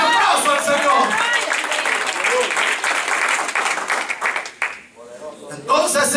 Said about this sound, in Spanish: Y a su nombre le fuerte ese aplauso al Señor.